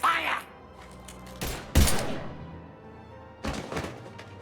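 Weapon fire in the video game Mass Effect 3 comes as a few separate loud bursts and thuds with quiet gaps between them.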